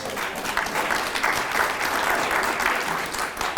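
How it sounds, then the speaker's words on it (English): A room full of people at a chamber of commerce legislative event held at a community college gives a round of applause, a dense, steady clapping that keeps up at an even level throughout. "Give them a round of applause."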